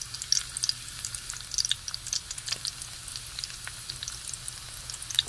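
Garlic sizzles in hot cooking oil, a steady crackling spatter with tiny popping bursts, close up and alone, with no voice over it.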